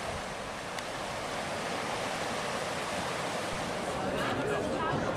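A river swollen after heavy rain rushes steadily as a dense, broadband roar of water that stays loud and unbroken throughout, with no pauses or distinct splashes.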